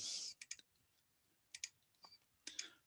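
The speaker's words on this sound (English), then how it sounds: "I'm using the arrows on my keyboard to go down." Several sharp, quiet clicks of arrow keys pressed on a computer keyboard, coming singly and in quick pairs with short gaps, close and alone.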